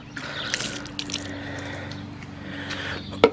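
Old soap mixture dumped out of a container while cleaning a C6 Corvette: a short wet squishing pour with faint drips, close up, ending in a small splash.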